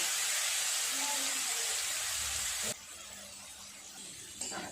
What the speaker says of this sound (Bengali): তেলের উপরে দিয়ে দেবো হলুদ, দিয়ে দেবো বেটে রাখা মশলা, আদা আর গোটা মশলা যেটা বেটে নিলাম।